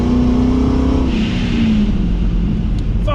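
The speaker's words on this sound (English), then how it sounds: "The exhaust is great." A supercharged 2010 Chevrolet Camaro SS with a cam and aftermarket exhaust rumbles loudly nearby, its deep engine tone sliding slowly down in pitch as the revs ease off.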